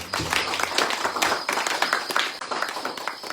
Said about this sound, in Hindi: हम जोरदार तालियों से इनको धन्यवाद दें